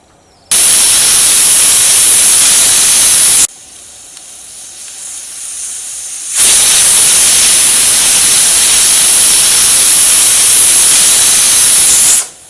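Loud, steady hiss of steam jetting from a pressure cooker whistle, in two long bursts separated by a quieter pause.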